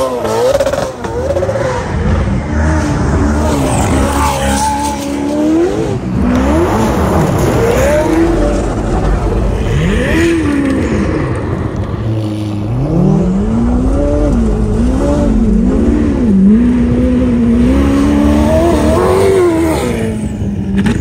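A $400,000 Ferrari climbs a near-vertical slope by a driveway, its engine revving loudly and close by, pitch swooping up and down continuously for about twenty seconds with no voices.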